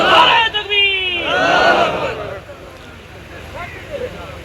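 A large crowd shouts a loud unified response to the Nara-e-Takbeer religious chant at a gathering, a roaring collective cry lasting about two seconds, then trailing off into a quieter murmur of voices.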